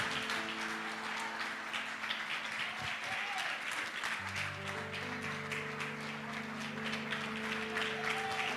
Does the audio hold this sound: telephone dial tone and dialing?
no